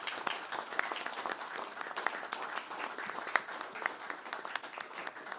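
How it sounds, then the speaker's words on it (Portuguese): Applause from a gathered crowd at a signing ceremony marking the start of construction on MFA Noord, steady clapping of many hands sustained throughout at moderate distance. "forte aplauso para tur"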